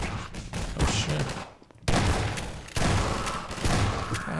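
Gunfire in the Half-Life 2 game, loud rapid bursts of automatic shots in dense clattering volleys, broken by a brief near-silent gap and then resuming just as intensely.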